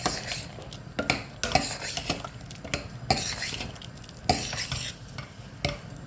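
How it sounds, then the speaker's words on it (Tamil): Cumin and chili are stirred in a cooking pan, with a spoon scraping and clinking against the metal in repeated sharp strokes over a low, steady sizzle, close and without talk. "போட்டு ஒரே கலந்து விடுங்க."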